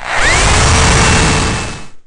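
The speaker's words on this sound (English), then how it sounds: "we're going to go ahead and pre-drill our holes here using that 1/8 inch drill bit again" A power drill with a 1/8 inch bit pre-drills holes in wood while building a Layens beehive, one loud, close burst that revs up, runs steadily for about two seconds and then stops.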